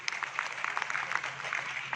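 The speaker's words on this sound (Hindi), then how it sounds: "एक बार जोरदार तालियां उनके लिए" Audience at a Modicare seminar clapping, a dense patter of many hands at moderate loudness, continuous and even for the brief moment, with no talk over it.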